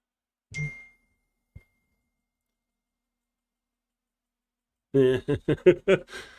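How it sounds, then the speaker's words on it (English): A phone gives a single short text-message notification ding, faint in near silence, followed a few seconds later by someone talking. "I just got a text message from Trump."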